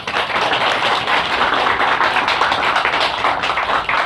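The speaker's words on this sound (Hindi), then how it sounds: "एक बार सभी अतिथियों का आप जोरदार तालियों से स्वागत कीजिए।" Hearty applause from an audience welcoming guests at a disability institution event, a dense, sustained clatter of many hands clapping at close range, steady throughout.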